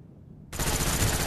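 Sustained rapid gunfire bursts out suddenly midway and keeps going, loud and close, in a capture-the-flag match on a firing-range map in a video game.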